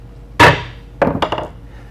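A chisel is tapped into wood to mark a mortise: one sharp close knock, then a quick cluster of three or four lighter taps, with no talking.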